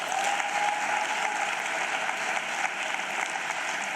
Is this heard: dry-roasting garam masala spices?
no